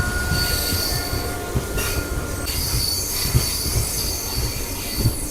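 Train pulling out of Penukonda Junction on the Anantapur to Bengaluru line, wheels squealing loudly against the rails over a steady low rolling rumble with occasional clanks, heard close and continuous.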